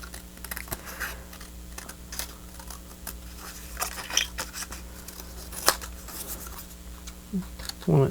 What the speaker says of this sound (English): Move the paper, not the scissors.